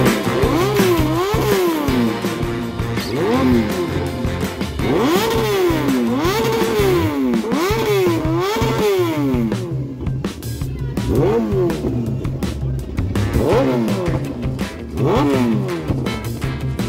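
A modified motorcycle at an underground bike gathering in Delhi is revved hard again and again, each loud rising-and-falling rev close by, with crackling clatter between blips.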